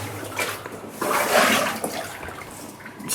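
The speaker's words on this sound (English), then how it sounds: "Hear a lot of water up ahead." Rushing, splashing water swells and recedes in an echoing flooded mine shaft, a steady wet churn that peaks briefly before settling back down.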